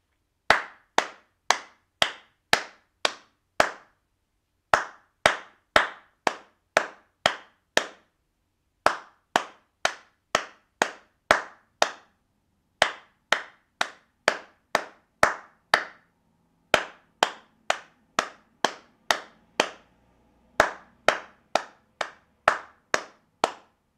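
Hands clap the rhythm of Twinkle Twinkle Little Star alone, crisp close claps grouped into phrases with short pauses between them, no voices.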